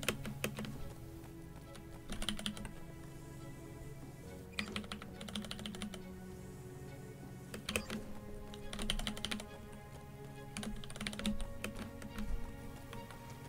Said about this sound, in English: you can especially hear it in my keyboard clicks.